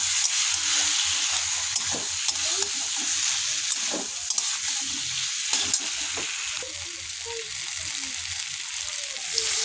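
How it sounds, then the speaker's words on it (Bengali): Fish and vegetable curry stirred in a hot pan after spice-rinse water is added, with a continuous loud sizzle and hiss broken by scraping strokes of a spoon, close up and without speech. "দিয়ে আবার একটু নাড়াচাড়া করে নেব।"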